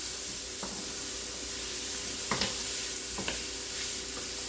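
Celery and other vegetables sauté in a soup pot, giving a steady soft sizzle and hiss with a few brief scrapes and clinks of a spoon stirring against the pot.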